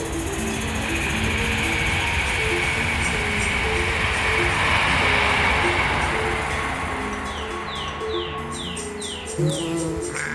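A London Underground Hammersmith and City Line train rumbles steadily along the tracks with broad, continuous noise, and a few rising electric whines come in near the end.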